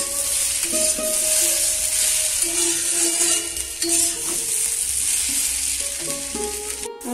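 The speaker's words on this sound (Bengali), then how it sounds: "আর এখানে আলু ভাজাটা কমিয়ে দিয়েছি" Potatoes frying in a kadai, a steady close sizzle running the whole time with faint stirring and utensil clinks on top, no talk.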